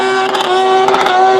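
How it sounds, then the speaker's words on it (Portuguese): Two-stroke jet ski engine running loud and close, a steady high-pitched buzzing drone with strong harmonics that holds throughout, with no talk. "Jet ski."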